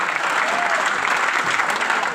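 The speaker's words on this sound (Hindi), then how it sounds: "तालियां।" Steady, dense applause from an audience at a motivational talk aboard the Cordelia cruise ship, a loud, continuous wash of clapping filling the whole moment without a break.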